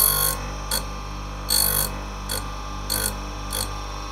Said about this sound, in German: um die Schneide zu schleifen